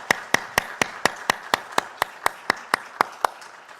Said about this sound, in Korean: 우리 어르신들께 감사의 박수 한번 보내주시기 바랍니다.